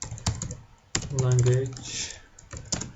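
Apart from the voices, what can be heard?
typing on a computer keyboard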